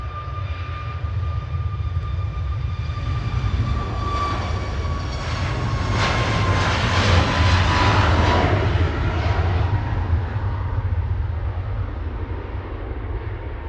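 A fixed-wing airliner arriving from Prague roars in to land at Manchester Airport, its engine whine swelling and sweeping downward as it passes near and then fading, with a deep rumble throughout and no voices.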